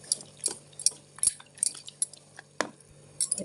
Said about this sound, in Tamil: கட்டி இல்லாமல் கிண்டிக்கலாம்.